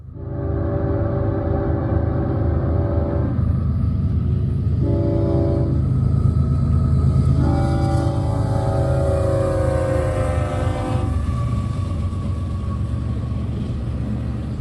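Freight train M514 rolling through a Central Georgia crossing, with a loud, continuous rumble throughout and long blasts of a multi-note horn sounding repeatedly over the passing cars.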